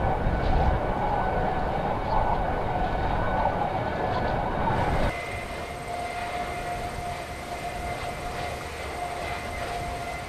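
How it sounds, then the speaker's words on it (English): An aging wind turbine at a California wind project gives a steady broadband whooshing roar with a persistent tonal hum, loud for the first half and then dropping to a quieter, even drone. "If you live near an aging wind project, which some people do, this is what you hear."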